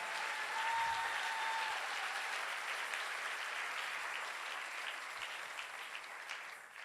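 Church congregation applauding steadily and loudly for the whole stretch, a dense wash of clapping with a few faint voices mixed in, at a service on marriage.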